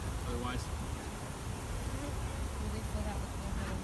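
Honey bees swarm around a hive frame, making a constant close buzzing hum with individual bees whining past, while people speak quietly underneath.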